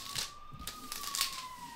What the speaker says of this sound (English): Det er udrykning. Vi har fået ambulance